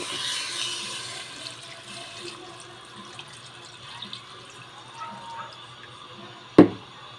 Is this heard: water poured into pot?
yes